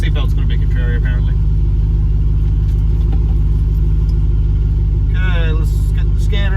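Steady loud engine rumble from a car being driven after a summer of tuning and repairs, a constant low drone throughout with brief bursts of voices over it.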